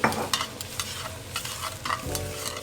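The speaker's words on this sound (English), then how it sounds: "Now we're just getting all that flavor off the bottom of the pan and just getting it mixed up with the onions" Onions frying in a pan are stirred and scraped off the bottom while making birria tacos, giving a series of close scraping strokes over a gentle sizzle.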